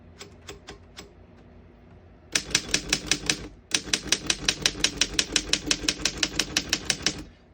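A 1926 Underwood No.5 antique desktop typewriter clacks: a few spaced keystrokes, a brief pause, then a fast even run of loud close key strikes with a slight break partway through.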